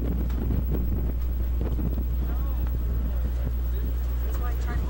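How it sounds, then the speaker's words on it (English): Strong, gusty wind of about 30 miles an hour at a high school baseball field buffets the microphone as a constant low rumble, with faint voices murmuring underneath. ".30-mile-an-hour wind. Gusts."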